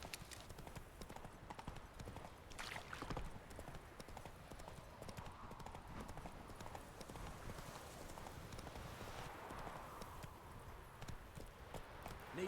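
Horse hooves clip-clopping at a steady trot in The Witcher 3 video game, a continuous rhythmic patter of fairly quiet hoofbeats, with faint voices and ambient game sound in the background.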